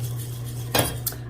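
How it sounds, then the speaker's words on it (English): A utensil scrapes and clinks against a hot pot while butterscotch sauce is stirred, two sharp metallic knocks standing out over a steady low hum, with no talk. "So you're just going to continue to stir this and scrape down the sides."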